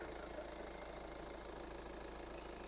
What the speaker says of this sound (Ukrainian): двигун працює рівненько, немає проблем, працює кондиціонер